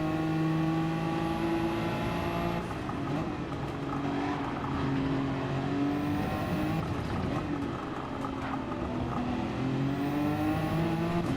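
Race car engines roaring and passing in Gran Turismo 7, loud and continuous with rising and falling engine pitch as cars jostle and overtake, tires occasionally squealing.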